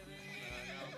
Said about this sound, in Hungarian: Ó, de szép az a ló, ez andalúz?